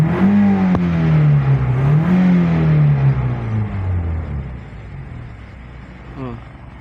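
A Toyota Vios single VVT-i engine revs up and settles into a smooth, even idle with no misfire, the rising whine easing to a steady hum as someone talks over it.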